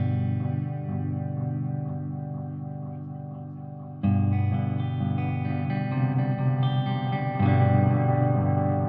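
A heavily processed guitar drone with swirling delay repeats from an EarthQuaker Devices Disaster Transport SR pedal that thicken and swell, growing louder and more chaotic toward the end as it oscillates into feedback.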